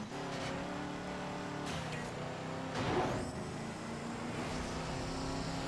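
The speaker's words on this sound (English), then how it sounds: "I'm going to use some NOS right there" Race car engine in a racing video game boosting on nitrous during the second lap, a steady loud engine drone with a brief surge and whoosh midway before settling back to a sustained roar.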